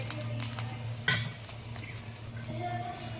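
Garlic, peanuts and green chili for a raw mango thecha are stirred in a pan, giving metallic scraping and clinking of a utensil against the pan. One sharp clink stands out over a low, steady background.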